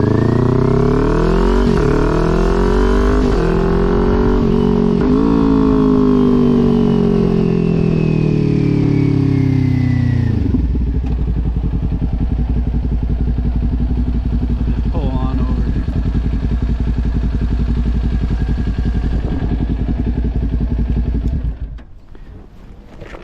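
A Kawasaki Ninja 400 motorcycle revs close and loud, pitch climbing and falling through blips as it rev-matches a downshift from third to second gear, then settles into a steady lower drone before fading, with heavy wind noise throughout.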